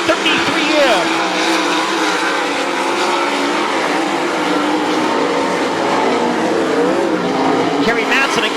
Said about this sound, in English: 2 laps remaining here in heat race number 3 for Caleb Griffith in the PI number 33M.